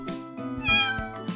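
A cat meowing in a short series of close, clear calls, one after another with brief gaps, and no voices.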